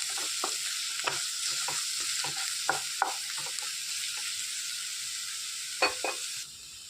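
Curry leaves and a pinch of turmeric sizzle in hot oil as a spoon stirs them, with a steady crackling fry broken by sharp scrapes and clicks against the pan, close and without voices.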